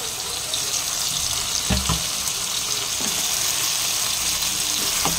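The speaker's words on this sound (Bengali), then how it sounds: "আমি আর একটু ভাজা ভাজা করব" Ridge gourd, potato and poppy seeds fry in a pan with a steady hiss and crackle, broken by a few dull spoon knocks against the pan.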